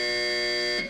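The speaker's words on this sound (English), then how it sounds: "That buzzer takes us down to Nipsey Russell." A game show buzzer blares as one loud, sustained electronic tone, harsh and harmonic-rich, before it cuts off abruptly at the end.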